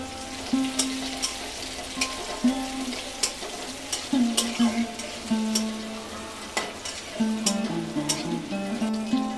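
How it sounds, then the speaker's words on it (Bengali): Onion and green chilli fry in a pan with a close, steady sizzle, and a spatula scrapes and knocks against the metal in an uneven rhythm; no one speaks. "এই যে আমার পেঁয়াজটা ভাজা ভাজা হয়ে গেছে"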